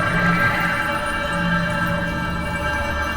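A mannequin in Black Ops 7 Nuketown Zombies gives a steady, sustained ringing tone with layered high harmonics, humming continuously over a low background drone, holding level throughout with no talking.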